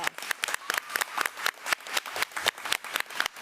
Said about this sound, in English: Let's give Harley a round of applause.